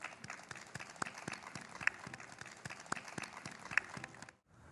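Audience at a Buddhist order's 60th anniversary ceremony giving faint, distant applause with scattered distinct claps, ending abruptly in silence near the close.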